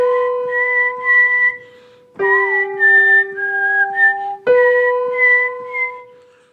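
A Flutino whistle plays three clear, sustained melodic phrases of bright pure tones, sliding between pitches with short pauses between them, close and solo with no talking.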